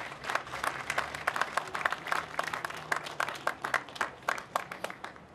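Scattered audience applause at a Hope Bus press conference, with individual claps distinct and uneven, moderately near, continuing for several seconds over a faint room murmur.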